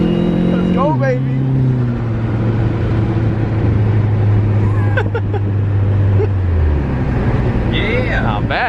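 A car pulls away hard in short first gear, its engine note rising loud and close before a shift. Voices talk over it inside the cabin throughout.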